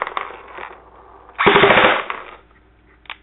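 Tokyo Marui Scorpion VZ61 airsoft replica firing full auto, with a few light mechanical clicks before a close, loud rapid burst lasting about half a second.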